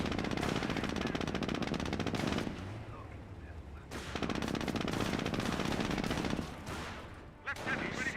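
Jeep-mounted machine gun firing in Company of Heroes, engaging Panzer Grenadiers: sustained dense rattling bursts that break off briefly and resume, loud and continuous across the battle scene.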